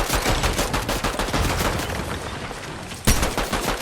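Rapid automatic gunfire in the Fortnite video game, a dense stream of loud, close shots running continuously with one heavier blast near the end, no voices over it.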